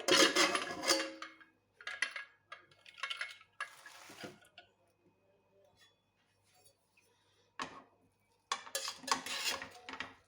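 A pressure cooker of urad dal khichdi is opened and checked: metallic clanks, clinks and scrapes of the lid and pot come in scattered bursts, separated by quiet pauses.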